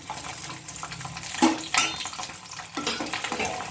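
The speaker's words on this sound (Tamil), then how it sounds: "எண்ணெயில் கடுகு பொரிஞ்சிட்டு பூண்டை சேர்த்துக்கலாம்" Mustard seeds splutter and garlic fries in hot oil, with crackling pops and a couple of sharp clinks of a utensil against the pan, close, with a loud burst midway and a softer sizzle after.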